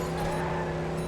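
Damaged car engine in the Midnight Club Los Angeles racing video game, a steady, strained, droning hum with a fixed whine, running loud and unbroken throughout.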